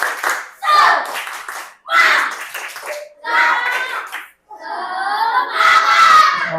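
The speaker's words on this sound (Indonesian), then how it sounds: "Tepuk semangat" A class of children claps a rhythmic cheer in bursts, chanting loudly together between the claps during a primary school Islamic education lesson.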